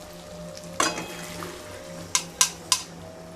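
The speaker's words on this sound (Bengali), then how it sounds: "এবার সেদ্ধ করে রাখা মটর দিয়ে দেব।" Boiled peas go into potatoes frying in mutton fat for ghugni, bringing a soft sizzle under a few sharp, close metallic clinks of a spoon against the pan, spaced out and then in a quick cluster of three.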